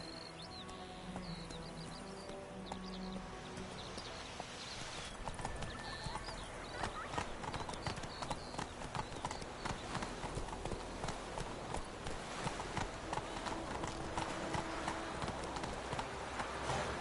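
Roach, the horse in The Witcher 3, trots with steady rhythmic hoof clip-clops that grow busier and louder after the first few seconds, over a game soundscape with faint birdsong and an occasional whinny.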